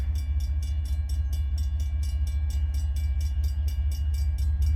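A manifest freight train with mixed cars rolls past steadily, a deep continuous rumble with a rhythmic clatter of wheels repeating over and over, loud and close, no voices.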